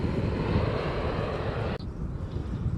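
An airplane flies over near Gimhae Airport beside a riverside fishing spot in Busan, producing a loud, steady broadband roar that cuts off abruptly near the end.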